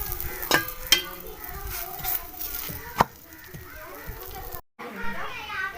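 Aloo lachha paratha fries in ghee on a hot griddle, giving a steady close sizzle with a few sharp knocks and pressing sounds, while voices and children chatter faintly in the background.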